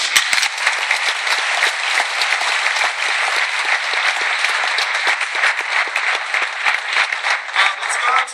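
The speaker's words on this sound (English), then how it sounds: "Give yourselves a round of applause." A graduation audience in a theater claps after a valedictorian speech, loud and dense with many individual claps audible, sustained evenly for several seconds with slight swells.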